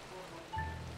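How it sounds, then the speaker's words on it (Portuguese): Steady rain falls in a Minecraft world, a soft, even hiss of rain on surfaces, with a brief low thump and tone partway through. "Não, a chuva continuou, né?"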